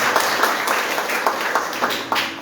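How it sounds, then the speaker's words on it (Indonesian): A church congregation applauds during a Sunday worship service, many hands clapping in a dense, sustained patter with brief swells, fairly loud and filling the room. "Tepuk tangan buat Tuhan kita yang luar biasa."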